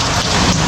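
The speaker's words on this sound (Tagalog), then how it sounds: "umuulan at grabe ang lakas pala ng ulan" Heavy rain pouring down during an emergency evacuation, a loud, dense, unbroken hiss of downpour close by with nothing else audible.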